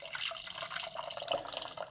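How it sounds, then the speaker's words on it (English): Water poured out of a plant pot while repotting, a steady splashing trickle with faint drips, close and fairly quiet, running alone for about two seconds. "Let's empty this water out"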